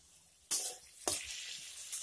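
Eggplant pieces frying in hot oil with a little salt and turmeric while being stirred in a pan; two loud bursts of hissing sizzle as they are tossed, then a steady close sizzle with no talk.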